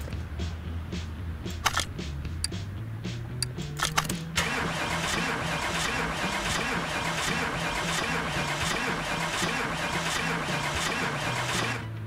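Simulated 1927 Bentley 4½ litre "Blower" engine in Car Mechanic Simulator 2018, heard over a few clicks: the starter cranks with a rising whir, then the engine catches into a steady, loud, rough idle.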